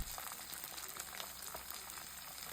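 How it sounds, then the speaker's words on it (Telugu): Curry leaves, coriander and mint frying in oil for veg biryani, a steady soft sizzle and crackle throughout, close but quiet, no talking. "బాగా వేయించుకోవాలి."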